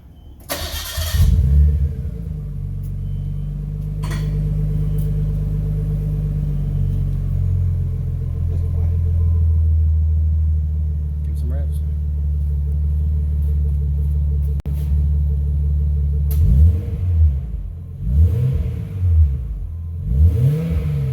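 A Nissan R32 Skyline with an HKS exhaust starts up and settles into a deep, steady idle, then gets several sharp revs that rise and fall near the end, heard close with no talking.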